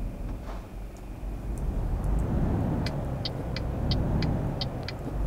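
A heavy truck engine labours in the video game Euro Truck Simulator 2, a low steady rumble and drone with a series of short, regular clicks near the end.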